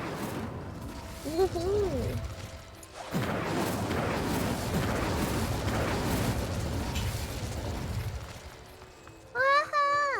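A fire spell is cast in Hogwarts Legacy, giving a loud whooshing, crackling burst that rolls on for several seconds. A player shouts the incantation and then exclaims over it, and a bright chiming game effect follows at the end.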